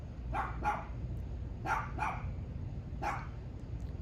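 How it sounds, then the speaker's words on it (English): A dog barks in short bursts, two quick barks, then a pair, then one more, somewhat distant over a low background rumble. "now the dog's barking again"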